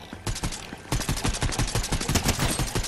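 Rapid gunfire in the video game Fortnite played on a PS5, a dense burst of repeated sharp shots firing in quick succession, loud and steady throughout with no talking over it.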